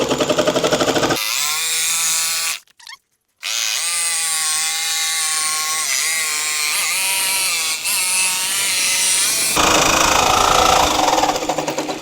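Power saw biting through a clamped panel for a DIY cargo box on a Ford F150 camper, whining loudly with shifting pitch as it cuts, briefly stopping before resuming and finishing with a harsher buzz.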